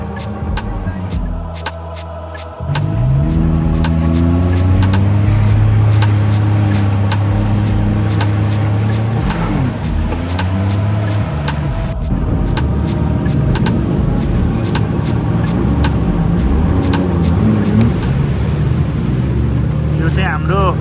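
A jet ski engine drones steadily on the open sea off Dubai, rising from a quieter opening into a loud, continuous motor roar with wind and splashing; voices talk and shout over it throughout.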